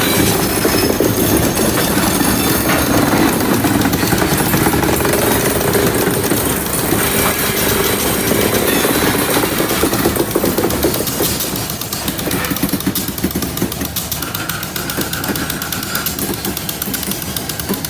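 Coal and grain freight train with locomotives, heard as a steady, loud rumble of rolling cars and engine drone throughout, with a slight drop in level partway through and no talk.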